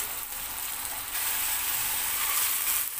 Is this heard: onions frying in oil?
yes